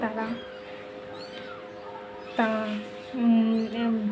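A black cat with a kitten meows, several short, close mewing calls, with a louder drawn-out meow near the end.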